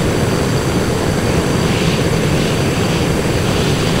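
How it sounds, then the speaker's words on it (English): Propellers on an amphibious aircraft in Stormworks: Build and Rescue spin in strong wind, giving a loud, steady, dense roar that holds unbroken throughout. "So the wind propellers are going supersonic speeds."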